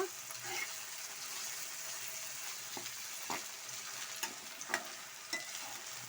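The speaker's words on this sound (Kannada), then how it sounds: "ಇವಾಗ ಇನ್ನೂ ಸ್ವಲ್ಪ ಫ್ರೈ ಆಗಬೇಕು" Okra (bendekai) fries in a pan with a soft, steady sizzle. Scattered light clicks of stirring and scraping come through at a moderate distance, with no talking.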